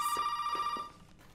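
A telephone rings in the Resident Evil 7 video game, a steady electronic bell tone holding for most of the moment before fading, fairly loud and alone with no talk.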